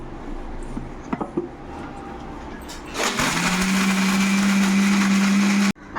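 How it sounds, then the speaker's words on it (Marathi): Electric mixer grinder grinding roasted green chillies and peanuts for an amti, a few clinks of the jar first, then a loud steady whirring motor hum that stops abruptly. "मिरच्या टाकायच्या, शेंगदाणे टाकायचे, हे मिक्सरला बारीक फिरून घ्यायचे आमटीसाठी"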